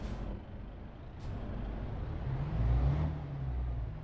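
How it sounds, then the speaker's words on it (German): MAN TGX 2020 truck engine in Euro Truck Simulator 2, a low, gritty diesel rumble that swells slightly midway, with a brief hiss near the start. "Der hört sich auf jeden Fall ordentlich kernig an, der Truck hier."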